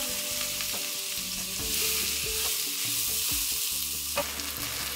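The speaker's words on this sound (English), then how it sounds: "I'm just going to fry these onions till they turn slightly brown" Thinly chopped red onions fry in a pan with a steady, close sizzle and crackle that runs unbroken throughout, with no voices.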